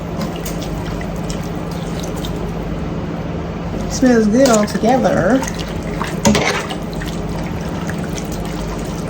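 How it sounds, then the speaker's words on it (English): Water is poured from a container into a cooking pot of half and half for gnocchi, a brief splashing pour mid-clip over a steady kitchen hum, with someone talking before and after it. "I'm gonna add a little water because that the gnocchi gotta go in here too."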